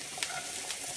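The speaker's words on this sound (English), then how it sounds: "So they're going into the pan just to" Carrots sizzle in a hot pan, a bright continuous frying hiss with a couple of brief crackling bursts, heard up close without any talking.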